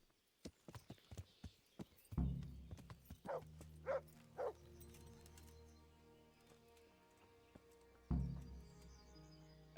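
Horse hooves in Kingdom Come: Deliverance, a series of clip-clop hoof beats at a moderate pace with a couple of heavy low thumps, alongside faint animal calls and ambient game sounds.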